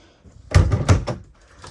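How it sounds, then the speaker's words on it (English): A door in a 2005 Gulf Stream Ultra Super C motorhome swings shut with a solid thud and a brief rattle as it settles, fairly close, with quiet room tone before and after. "Door closes good."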